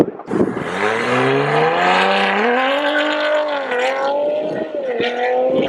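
A car held on launch control with brake boosting revs hard, engine pitch climbing and holding at a loud, steady high drone close by, then dipping and surging again.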